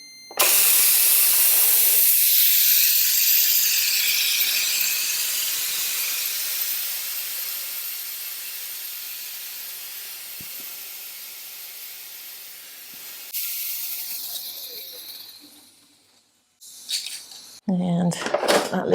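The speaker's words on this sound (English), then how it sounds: "Now you'll see the difference in steam release." Loud, sharp steam hiss bursts from an Instant Pot Mini pressure cooker's release valve and slowly fades over many seconds, then cuts off, followed by a few clattering metal and lid sounds.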